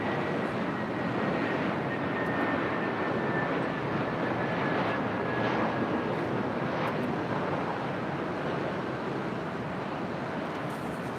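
Airliner jet engines at LAX airport, a steady broadband roar with a faint whine riding on top, constant and fairly loud for the whole stretch.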